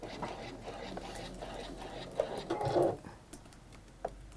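A sewing machine whirs with an odd rattling noise, a steady low mechanical drone with brief louder clatters, heard close with faint talk in the background.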